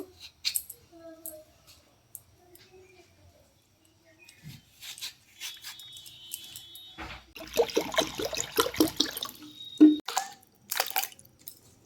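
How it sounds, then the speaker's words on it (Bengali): Cut potato pieces being washed in water in a home kitchen: quiet drips and small knocks at first, then a louder burst of splashing, sloshing water and squishy handling from about the middle, close by. "আলু টুকরোগুলো পরিষ্কার করে ধুয়ে নেব"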